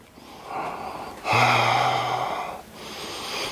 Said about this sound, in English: so you can practice Ujjayi breathing